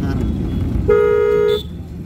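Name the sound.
car horn honking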